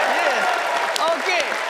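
Television studio audience chatter and murmuring voices with a wash of clapping underneath, during a card magic performance, busy and fairly loud throughout.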